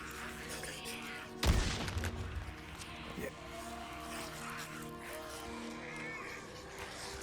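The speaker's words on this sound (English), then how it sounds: "And now I'm looking to go with pipe bombs." A pipe bomb blast in the zombie-survival video game Days Gone: one loud, sudden boom with a rolling tail, and a smaller crack a moment later, over a steady game soundscape with music.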